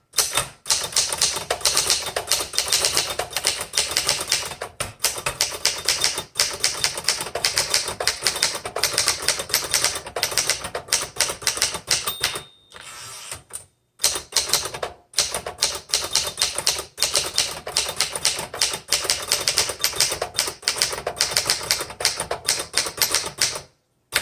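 Typing on a 1971 Remington Ten Forty vintage typewriter: a close, loud, rapid stream of clacking keystrokes with mechanical rattle, broken by a brief pause near the middle before the brisk typing resumes.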